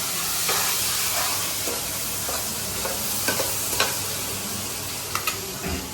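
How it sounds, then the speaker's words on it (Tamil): Garlic and onion tempering in hot oil in a pan for sambar, a steady dense sizzle with occasional stirring scrapes and pops, close and continuous without talk. "பூண்டு, வெங்காயம் எல்லாத்தையும் இப்போ நம்ம லைட்டாக தாளிச்சுக்கலாம்"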